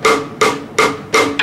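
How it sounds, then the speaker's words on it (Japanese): A closed rimshot played on a drum, the palm resting on the head to mute it, struck five times at an even quick pace, each hit a sharp, dry, loud crack heard close and alone. "リムショットをしていくと"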